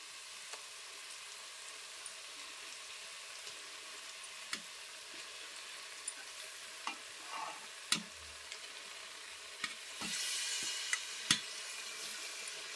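Pomfret fish for a curry frying gently in a pan on a low flame gives a faint, steady sizzle with scattered small pops and ticks, closer bursts of crackle near the end.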